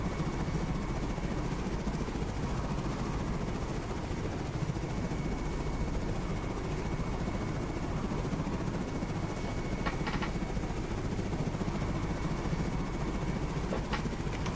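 A chopper in the video game Carrier Command 2 flies with a steady, dense rotor and engine roar that holds constant throughout, joined by a few faint clicks near the end.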